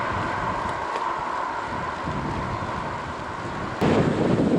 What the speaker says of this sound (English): this freaking wind is taking the best of me